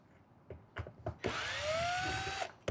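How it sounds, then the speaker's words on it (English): A power drill whirs as it backs screws out of a roof-mounted structure, first in a few short bursts and then one sustained, close run with rising pitch. "And I'm going to take these screws out."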